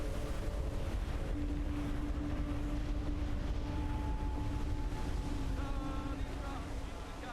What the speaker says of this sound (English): Rogue waves to starboard!